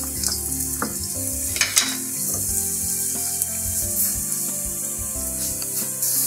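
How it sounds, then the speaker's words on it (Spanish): Asparagus with a pinch of salt frying in oil in a pan over low heat, giving a steady close sizzle and crackle with a few louder pops and stirring scrapes throughout. "Le pongo un poco de sal y lo pongo al fuego para que se vaya rehogando"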